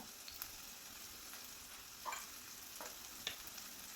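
Chopped onion with crushed ginger and garlic fries softly in a pan while being stirred, a faint low hiss broken by a few light scraping clicks, with no talking.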